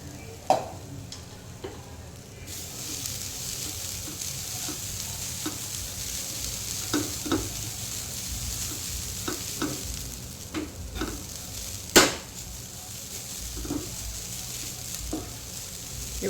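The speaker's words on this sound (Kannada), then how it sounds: "ಇವಾಗ ಸ್ವಲ್ಪ ಸ್ವಲ್ಪ ಹಾಕಿ ಫ್ರೈ ಮಾಡ್ತೇನೆ" Grated coconut fries in a pan in a small batch, giving a low steady sizzle with occasional soft scrapes and ticks from stirring, close but fairly quiet, with no voices.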